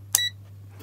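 A single short beep from an in-circuit ESR capacitor tester set to its continuity beeping mode, sounding once, clear and close over a steady low electrical hum.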